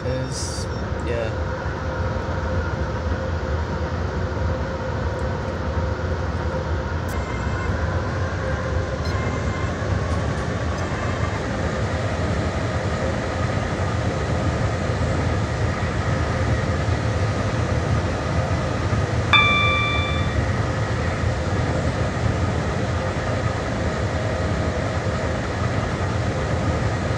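A class 801/802 next-gen train running in the SCR game, a steady droning rumble of traction and rolling wheels with a faint whine, continuous and even, with a brief chime-like tone near the end.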